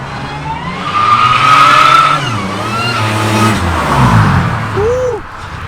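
A modified Toyota Camry sleeper revs loudly as it flies past outside, the engine pitch rising and then dropping as the car sweeps by and fades off, with a faint squeal near the end.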